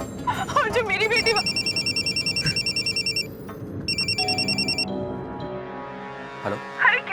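A telephone rings with repeated electronic trills in two bursts separated by a short gap, loud and close, followed by a voice speaking.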